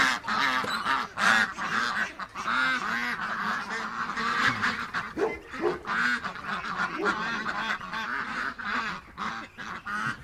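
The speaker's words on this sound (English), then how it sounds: "the ducks are making a rush for it" A flock of ducks rushes forward during feeding time, loud and close, with dense overlapping quacks and honks running continuously with no break.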